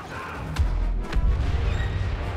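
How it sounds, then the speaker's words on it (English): A thermal impulse grenade explodes in the Star Wars Battlefront video game on the Frostfall map: a deep booming blast followed by a second thud and rumbling low-end aftermath, loud and close. "That explosion was a thermal impulse grenade"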